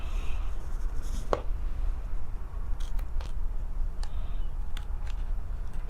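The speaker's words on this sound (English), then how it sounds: "I'm cutting right under the felt." Scissors cut through felt beneath an embroidered patch in short, sparse snips, with soft rustling and handling over a steady low background hum.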